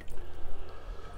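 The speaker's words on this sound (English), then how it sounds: "Just give it a wash under the tap." Water from a kitchen tap runs and splashes over an onion being rinsed, a short burst of close dripping and trickling with no talk over it.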